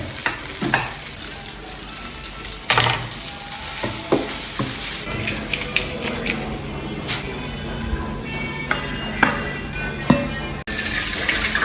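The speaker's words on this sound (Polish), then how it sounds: "ryż smażony z jajkiem i warzywami" Fried rice with egg and vegetables sizzles and crackles steadily in a hot pan, with scattered scraping and stirring clatters from a utensil.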